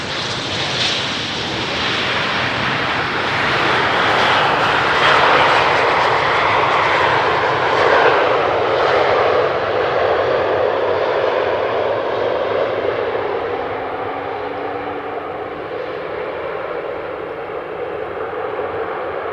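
A SkyTeam-livery airliner from Montpellier lands at Amsterdam Schiphol runway 18R with no reverse thrust, its broad engine roar loud and steady, then slowly fading and thinning as it rolls out.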